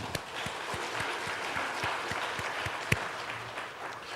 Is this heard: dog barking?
no